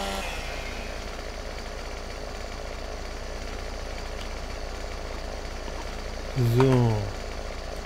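A chainsaw in the farming game Landwirtschafts-Simulator 17 cuts through wood with a steady, close motor drone throughout. A voice briefly cuts in near the end.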